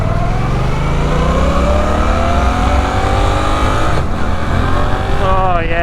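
A 2023 Suzuki GSX-8S motorcycle engine climbs steadily through the gears, loud and close, with rising revs broken by a brief dip at a shift before pulling up again.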